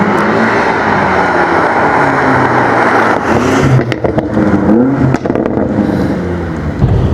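A BMW M5 with a petrol V8 accelerates hard, a loud continuous engine roar with rising and falling pitch sweeps and gear shifts, heard close from inside the car with no talking.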